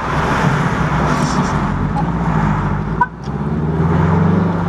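An Audi TT RS driving past on a town street, a steady engine rumble and road noise rising and holding nearby, with a person talking over it.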